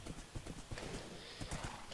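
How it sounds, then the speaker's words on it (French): A Minecraft horse galloping, its hooves beating in a quick, steady clip-clop rhythm, quiet and slightly muffled, with a brief whinny-like sound mixed in. "J'ai trouvé le cheval qui saute 4 blocs et qui va à 200 km/h."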